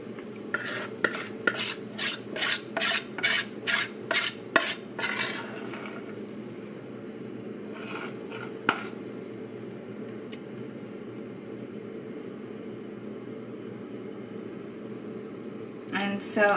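A spoon scrapes and taps rhythmically against a bowl while spreading flan cake batter, a quick run of close strokes followed by quieter scrapes, with a person talking.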